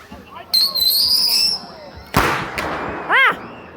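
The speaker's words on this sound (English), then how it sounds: "Ah, look at over there. It's the firework." Fourth of July fireworks go off outdoors: a whistling rise, then a sharp crackling burst and another short popping explosion, with excited voices around them.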